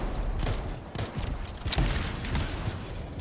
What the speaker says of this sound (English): Contained explosion.